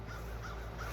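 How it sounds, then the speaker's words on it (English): Crows caw outdoors in a short, loud burst with no voices present. "Yeah, I wish I could see these crows. They is going off."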